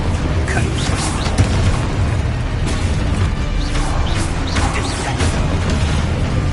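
Booming fire-blast explosions from the Confringo spell in Hogwarts Legacy, several loud bursts and crashes scattered across a dense, roaring battle mix with no pause between them.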